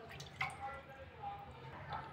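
Water is added to rice flour in a kitchen while making goli idli, producing faint, quiet dripping and trickling with a few soft liquid plinks.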